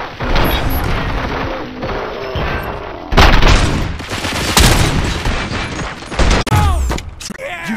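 Gunfire and heavy booms from a RoboCop Rogue City firefight, a dense continuous barrage with crashing impacts and thuds, loud and close throughout, with sharper bursts breaking through midway.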